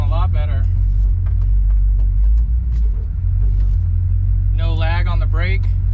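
A 1969 Plymouth Fury III driving after brake system replacement, its engine and road rumble a steady low drone throughout, with a voice talking briefly at the start and end.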